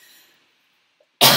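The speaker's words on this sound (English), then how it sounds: "all of a sudden I started coughing" A single loud, close cough bursts out abruptly after a stretch of near silence.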